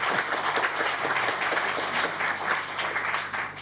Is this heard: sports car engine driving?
no